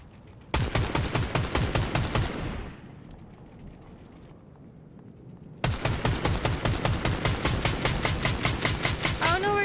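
Rapid automatic gunfire in Fortnite, two loud close bursts of evenly spaced shots separated by a short quieter gap, with a player talking around it.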